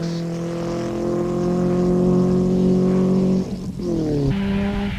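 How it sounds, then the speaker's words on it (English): A Sasol Toyota Hilux rally truck racing in the 1991 Thaba Nchu 500, its engine a loud sustained drone close by that drops briefly as the driver shifts gears, then climbs again. "With their buckies sounding as good as new and still leading Class 5 and lying 5th overall were Alfred van Vuren and Piet Pelzer in the Sasol Toyota Hilux"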